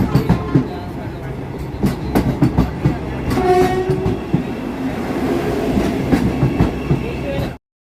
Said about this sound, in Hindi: फाइनली हम जा रहे थे वंदे भारत मेट्रो ट्रेन में।